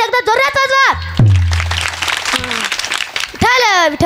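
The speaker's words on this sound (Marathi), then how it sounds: "टाळ्या कशा होतात एकदा जोरात वाजवा" A crowd at a comedy kirtan bursts into loud clapping for a couple of seconds, set between stretches of someone speaking and chanting over amplified sound.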